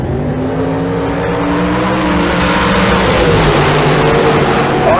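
Drag race cars roar off the line at Tucson Dragway, a loud, sustained engine howl with rising revs that fills the whole stretch at close range.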